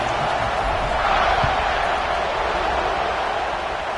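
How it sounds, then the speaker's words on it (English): A football stadium crowd buzzes after a touchdown and extra point, a dense, loud, steady roar of many voices filling the whole stretch. "this crowd is buzzing after that last score"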